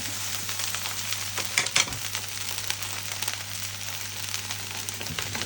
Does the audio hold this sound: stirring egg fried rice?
yes